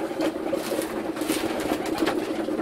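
Racing pigeons coo softly nearby while feeding at their loft in Głogów, Poland, amid a steady low bustle and faint pecking.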